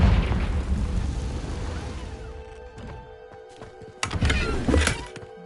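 A Confringo blasting spell explodes in Hogwarts Legacy gameplay with a loud low booming rumble that fades over two seconds, followed by sparse tonal game sounds and a second sharp burst near the end.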